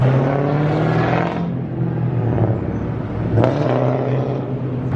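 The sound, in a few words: loud car engine revving on the street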